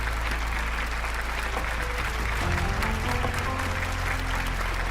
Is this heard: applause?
yes